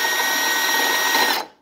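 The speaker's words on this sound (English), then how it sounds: "I just hooked it right to my drill." A cheap power drill spinning a socket on an engine build, a steady loud close whir that winds down and cuts off near the end.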